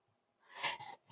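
A single faint, short sneeze with a breathy intake and a burst, heard alone and quiet during a wrestling show broadcast.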